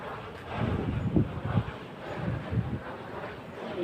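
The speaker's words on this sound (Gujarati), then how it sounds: "આ પવન છક્કાનો છે એટલો બધો અવાજ કરે છે" Gusty wind roars and buffets the microphone in low rumbling surges, with no talking.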